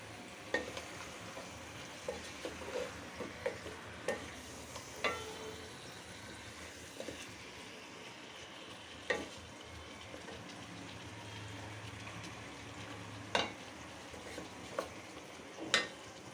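Eggs frying in a pan for a light, pale korma in a home kitchen, a low steady sizzle with scattered sharp crackles and pops spread across the stretch, no talking.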